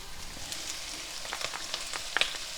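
Ginger hitting a hot wok for a chicken and vegetable stir fry with noodles, a soft crackling sizzle with scattered sharp pops and spits, fairly quiet and close, no talking.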